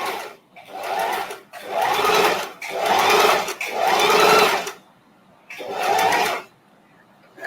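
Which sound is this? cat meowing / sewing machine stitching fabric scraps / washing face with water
sewing machine stitching fabric scraps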